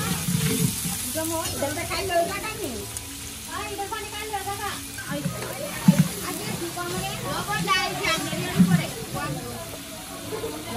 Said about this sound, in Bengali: 1 লিটার তেল দেওয়ার পরে আমাদের এখানে পেঁয়াজ দিয়ে দিয়েছে